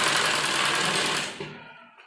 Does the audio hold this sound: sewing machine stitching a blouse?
yes